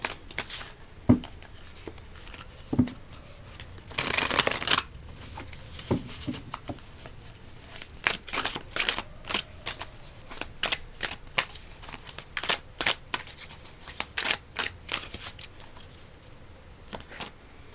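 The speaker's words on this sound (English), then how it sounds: "let's get another card." Tarot cards are shuffled close by in irregular sharp snaps and riffles, with one longer riffle burst early on and scattered slaps after it, and no talking.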